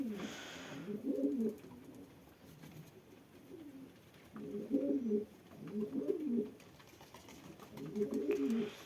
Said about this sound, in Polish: To jest jakiś dziwny gołąb, on aż oczy zanurza.